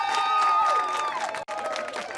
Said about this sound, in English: Applause from Radloff Middle School bus drivers as one of their own was heralded as a hidden